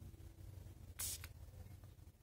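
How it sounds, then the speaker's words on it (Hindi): Park Avenue Pure Collection Trance perfume body spray, a gas-free formula, lets out a single sharp hiss lasting about a quarter second at close range, followed by a fainter puff over a low, steady room hum. "इसे आपको एक बार स्प्रे करके दिखाता हूँ मैं"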